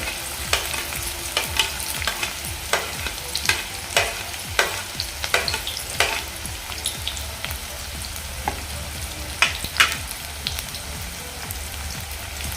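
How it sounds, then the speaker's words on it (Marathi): Chopped onion and curry leaves fry in hot oil, a steady close crackling sizzle with repeated sharp pops and stirring scrapes running throughout. "आता यामध्ये आपण कांदा घालून घेऊया कांद्यासोबतच मी कडीपत्ताही घालतो"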